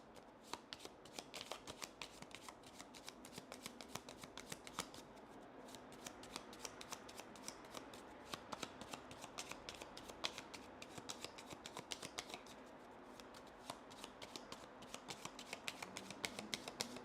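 Cards being shuffled during a live playthrough of the board game Legacy of Yu: quiet, rapid riffling and flicking of cards in repeated bursts, close and soft, continuing steadily throughout.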